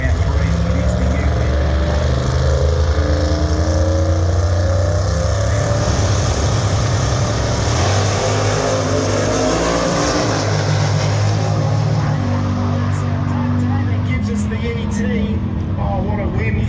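Cars roaring down a 1/8 mile radial drag racing track, loud continuous engine drone building and shifting, with an announcer talking over it throughout.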